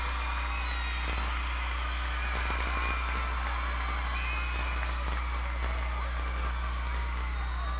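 Crowd at a youth dance competition cheering and whooping for a Batman-themed routine, distant shouts and applause over a loud low hum and amplified noise.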